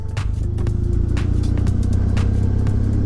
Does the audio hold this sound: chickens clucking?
no